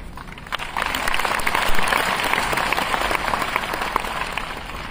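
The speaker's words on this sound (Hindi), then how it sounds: "समझ में आया कि खाली ताली बज रही है?" An audience at a seminar in Nagpur applauds, sustained, dense clapping that rises quickly and stays loud and even throughout.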